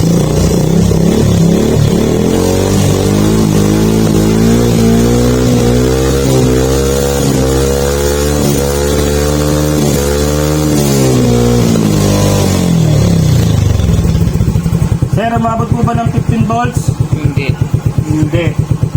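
A 2022 Suzuki Smash motorcycle engine revs high and steady with a loud, close harmonic whine whose pitch shifts slightly, then drops back to a lumpy idle toward the end.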